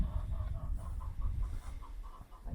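Chickens in a coop cluck softly in a loose, repeated rhythm, nearby but fairly quiet over low background rumble.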